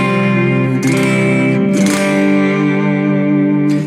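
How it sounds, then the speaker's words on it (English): Electric guitar chords ring out through an Eventide delay with a touch of reverb, each strum trailing into echoing repeats and a sustained wash, played alone. "then I have the delay from the Eventide. Oh, also a little bit of reverb"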